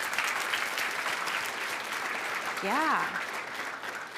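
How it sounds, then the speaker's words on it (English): Audience clapping steadily throughout at a live-streamed leadership event, with a brief spoken interjection partway through. "Yeah, claps for that."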